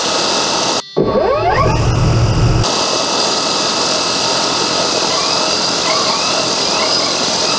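A 3D-printed drone on its maiden flight spins up its motors: a loud, steady whine with rising tonal sweeps and a continuous broadband roar holds close and strong throughout, with a brief low rumble early on.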